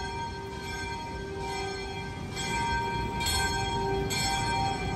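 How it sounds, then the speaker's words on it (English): Church bell ringing at the Church of St. Peter and Paul in Manila, with steady sustained tones over a busy outdoor street background; strikes swell at regular intervals of roughly a second, no talk. "They're ringing the bell."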